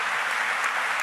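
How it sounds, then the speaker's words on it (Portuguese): A church congregation claps together in steady, dense applause at a worship celebration, loud and continuous with no voices over it. "Irmãos, vamos aplaudir o nome de Jesus por tudo onde começou."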